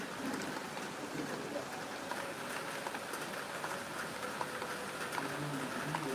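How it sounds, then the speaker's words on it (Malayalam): Steady, soft rainfall patters evenly on surfaces, a gentle continuous hiss with scattered drops throughout. "മഴയുണ്ട്, അടിപൊളിയായിട്ട് പെയ്യുന്നുണ്ട്."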